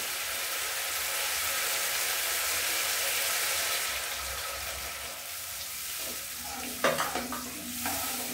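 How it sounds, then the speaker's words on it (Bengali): Hot water poured into frying spice masala in a pan for chhanar dalna, a steady loud sizzle and stirring that shifts character midway, followed by brief clattering bursts near the end. "মশলা থেকে তেল ছেড়ে গেছে বন্ধুরা, আমি এবার গরম জলটা দিয়ে দেবো।"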